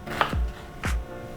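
A knife slices through an onion on a cutting board with two close, distinct cuts, each ending in a soft thud on the board, alone without talking.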